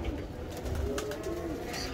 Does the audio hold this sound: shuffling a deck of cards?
no